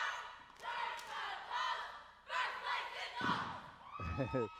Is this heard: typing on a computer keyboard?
no